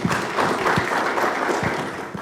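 An audience at a university conference applauds, giving a dense, loud, steady wash of clapping that continues throughout the short moment.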